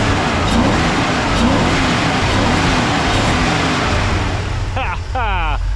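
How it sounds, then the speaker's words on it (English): A Porsche 928 engine idles after its stuck injectors were freed, a close, steady low rumble with a few revs. People talk over it, and a rising whine comes in near the end. "Stuck injectors, it's actually idling a whole lot smoother now."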